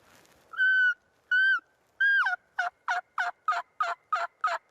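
Three drawn-out whistled notes from a turkey call, then a rapid, evenly spaced series of sharp high-pitched yelps, clear and fairly loud.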